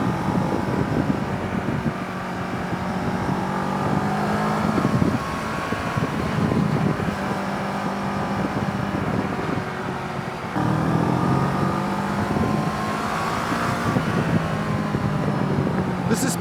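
Triumph Speed 400 motorcycle ridden on the road, a steady engine drone with wind rush that shifts pitch as the bike accelerates and changes gear, continuous throughout.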